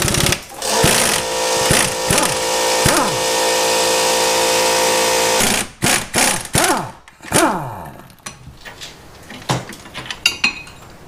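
A power tool loosens the coilover strut bolts on a car, giving a long, loud rattling burst up close, followed by several shorter, choppy bursts and clanks.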